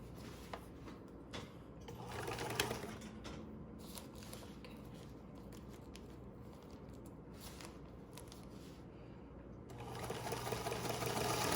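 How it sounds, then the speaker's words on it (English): A sewing machine backstitches the seam of a hospital gown, running in steady, close, continuous whirring bursts with faint handling rustles between stitches. "put my needle down first, put my foot down, and begin with a back stitch"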